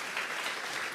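Church congregation applauding at a worship service, a brief, fairly faint wash of steady clapping with no voices over it.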